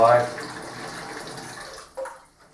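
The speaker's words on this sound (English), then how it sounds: "So what we do is run a bit of hot water." Hot water running from a tap into a sink for washing dishes, a steady rushing splash that starts loud, settles, and tails off after a brief bump near the end, with a voice talking over it.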